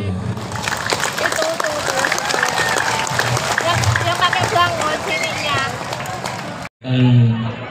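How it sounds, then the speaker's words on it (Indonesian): A crowd at an Islamic religious gathering in Kendal for a police anniversary breaks into dense, loud applause mixed with cheering voices. The clapping stops abruptly near the end and a brief burst of other sound follows. "Tepuk tangan untuk beliau."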